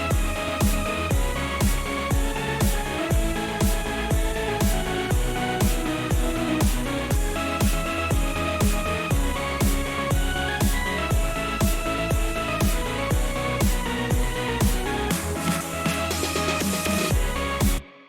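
A finished electronic beat drop plays loud and continuous, with layered punchy drums, sharp claps and impact effects hitting in a steady driving rhythm over sustained synth tones, before cutting off abruptly at the end.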